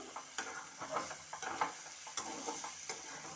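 Potatoes frying in a pan are stirred with a utensil, giving a steady sizzle broken by scattered scraping and tapping clicks, close by and with no voices.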